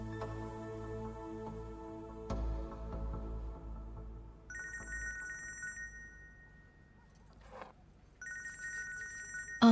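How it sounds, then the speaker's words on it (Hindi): A home telephone rings in two bursts of bright electronic trilling, fairly clear over a quiet room with a low musical bed beneath, no talk. "फेरिदे का फोन है, अली की माँ का।"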